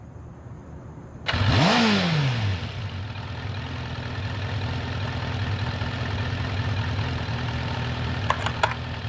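A motorcycle engine starts up with a sharp burst, revs up and back down once, then settles into a steady, loud, close idle with no one speaking.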